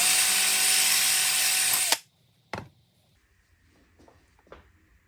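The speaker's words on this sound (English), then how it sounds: "take my bigger drill bit and make that hole a lot bigger" A power drill bores a hole in a clear plastic map light lens from a Jeep Grand Cherokee, a steady whine running for two seconds and cutting off, followed by a few faint clicks and taps.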